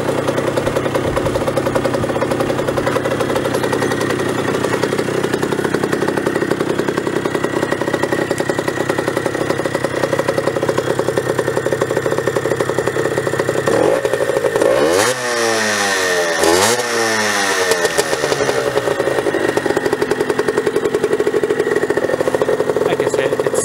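A 2007 Rieju RS2 50cc motorcycle exhaust burbles at a steady, buzzy idle, then rises in a couple of sharp revs before dropping back to idle, loud and close throughout.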